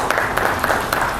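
A round of applause from a conference audience welcoming a woman onto the stage at a keynote event, steady clapping filling the short moment without pause.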